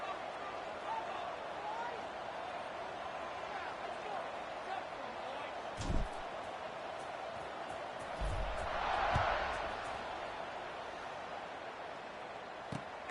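A football stadium crowd at a Tulane at Texas Tech kickoff hums as a broad, steady roar, swelling briefly with a cheer, under a commentator's running play-by-play.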